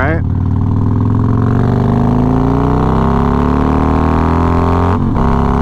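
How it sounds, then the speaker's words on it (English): Harley-Davidson Road Glide with an S&S 475 cam revving loud and close, a deep choppy exhaust that rises in pitch through a sustained rev, drops abruptly near the end, then picks back up. "that audible sound of that cam chopping with this exhaust automatically just wins the day"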